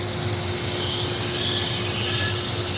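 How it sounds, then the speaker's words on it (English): An AMK 76 2x42 belt knife sharpener runs steadily close by, giving a continuous abrasive hiss and whir with a faint underlying motor hum, alone with no voices. "this is an AMK 76 2x42 sharpener"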